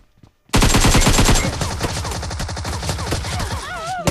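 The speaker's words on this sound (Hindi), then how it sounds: "मुझे सामने से डीपी का आवाज़ आया।" A DP-28 light machine gun in PUBG Mobile opens up suddenly after a quiet moment, firing a long rapid close burst of evenly spaced shots, with sharp whizzing tones near the end.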